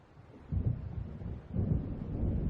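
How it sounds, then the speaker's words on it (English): Thunder from an approaching storm in the video game Alan Wake rolls in as two deep, rumbling swells, each building and lingering, with no talk over them. "It seems there's a storm coming."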